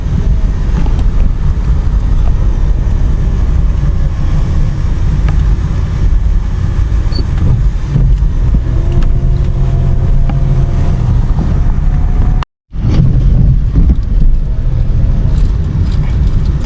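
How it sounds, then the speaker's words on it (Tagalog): Traffic rumbles steadily as heard from inside a moving vehicle, with a loud low drone, some wind buffeting and a brief dropout near the end. "Traffic na traffic na"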